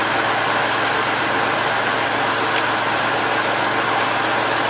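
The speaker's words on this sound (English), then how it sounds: "I'm going to turn the throttle up a little on the tractor so I can get a little more speed on that pump." A tractor engine with a WoodMaxx backhoe attached runs steadily at a constant throttle, a close, continuous droning hum with no pauses or voices.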